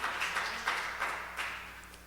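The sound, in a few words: congregation applause in church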